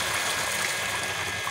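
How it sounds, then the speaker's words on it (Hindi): Water pours steadily into a cooking pot for aloo chicken pulao, a continuous close gushing rush with no voices. "हम इसमें पानी शामिल करेंगे, तो पानी शामिल कर देंगे इसमें।"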